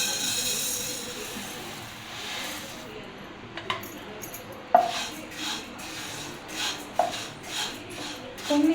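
Urad dal, peanuts and roasted gram being dry-roasted in a pan, with light scraping and stirring clatter recurring at irregular intervals, close and fairly faint, no talking.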